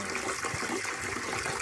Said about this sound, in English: and wait for it to drain. I just don't know how much water is in here